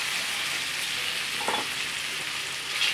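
Steady frying sizzle as boiled vegetables, including potato and beetroot, are tipped into hot pav bhaji masala with coriander, with a brief soft clatter of the pan midway, close and continuous.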